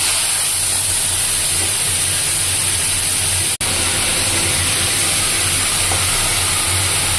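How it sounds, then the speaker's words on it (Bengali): Boiled taro greens going into hot oil, cooked alongside fried hilsa fish head, give a loud, steady, broadband sizzle and hiss that continues unbroken except for one sharp click partway through. "এখন আমি কচুর শাকটা তেলে দিয়ে দিচ্ছি।"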